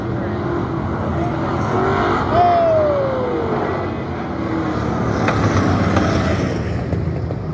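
Factory hobby stock race cars roar around Lake Cumberland Speedway in a Valvoline Iron Man Series race, with a dense, continuous engine drone and one car's pitch sweeping down as it passes close by.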